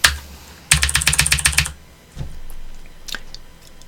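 A rapid burst of keyboard key presses, several clicks in quick succession, followed by a few scattered single taps after a short pause.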